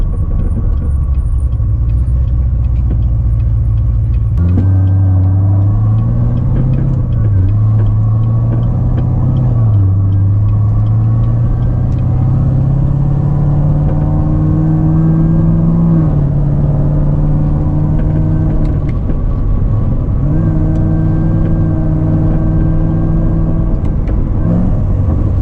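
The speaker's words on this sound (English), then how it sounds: "it does got a little burble on the downshifts" Deep, loud exhaust rumble from a built C7 Corvette Z06 V8 heard from inside, steady droning with rising and falling revs as it shifts, carrying a faint burble on downshifts.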